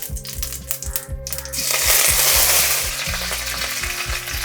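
Spices and curry leaves frying in hot oil, with crackling pops at first that swell into a loud, sustained sizzle as the leaves go in, close and busy.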